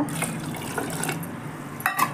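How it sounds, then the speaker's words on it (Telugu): Water poured into tomato dal in a pressure cooker splashes and gurgles in a short, uneven stream, close and moderately loud, with a brief louder splash near the end. "పోసుకొని తగినన్ని వాటర్ పోసుకోవాలి."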